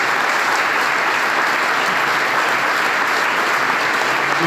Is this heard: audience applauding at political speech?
yes